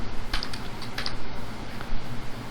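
Keys clatter on a computer keyboard while CSS code is typed, a quiet run of soft irregular taps with a few brighter clicks in two small clusters, close by and with no talking.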